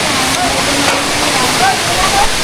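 A powerful waterfall rushes nearby, a loud, steady roar of falling water with a continuous churning wash that stays constant throughout.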